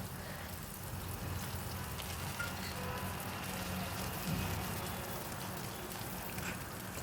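Grated ginger frying in a pan at home, a steady soft sizzle and crackle that runs unbroken throughout, fairly quiet with no voices over it.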